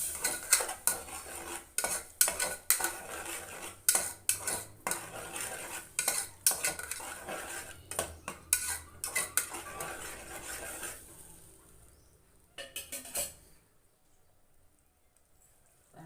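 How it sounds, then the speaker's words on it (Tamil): A metal spoon scrapes and clinks against a cooking pot in repeated stirring strokes, mixing tomato paste into a mushroom biryani base, close and rhythmic, then stops, leaving near silence. "நல்லா மிக்ஸ் பண்ணிவிடுவோம்"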